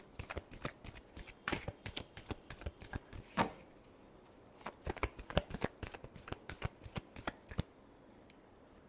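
Tarot cards being shuffled by hand in repeated quick riffling bursts, close and crisp, with brief pauses between runs and no voices.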